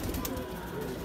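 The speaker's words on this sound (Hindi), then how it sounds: "बहुत ही अच्छा कबूतर है" Soft, low cooing of a Maksi Chotidar pigeon, faint and close, over a murky background.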